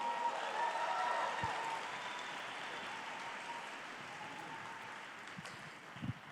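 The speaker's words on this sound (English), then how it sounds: "Can we please get one more round of applause?" Faint, distant applause from a community gathering audience after a speed painting performance at a Konkani Sammelan, a soft even wash of clapping that slowly tapers off.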